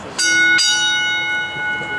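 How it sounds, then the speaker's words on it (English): Two sharp clangs of a wrestling match bell ring out close and loud in quick succession, the metallic tone ringing on and slowly fading. "Ring the bell."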